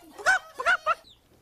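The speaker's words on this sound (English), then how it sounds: "See, there is a chicken scratching in the dirt." A video game chicken scratching in the dirt gives three short, clear clucks in quick succession, close and alone against a quiet background.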